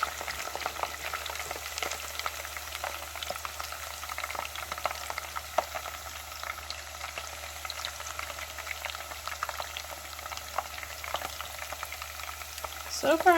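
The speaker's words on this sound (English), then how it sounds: "tempura, and then put them in the oil. Starting with the broccoli" Tempura-battered broccoli deep frying in oil, a dense continuous crackle and sizzle with frequent sharp pops, close and fairly quiet, with a brief louder clatter at the end.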